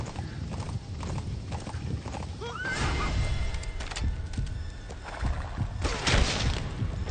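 A horse in Metal Gear Solid V: The Phantom Pain trots with rapid clip-clopping hooves, then gives a sharp whinny midway, followed by more hoofbeats and a few dull booms from the game.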